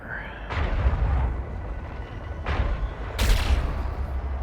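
Ship weapons firing in the space game Eve Online, three heavy booming blasts with bright crackling tails against a low rumbling drone, spaced about a second or more apart, the last one loudest.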